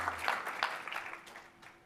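Conference audience clapping after a talk at a game animation event, a dense patter of many hands fairly close, steady for about two seconds and then tapering off.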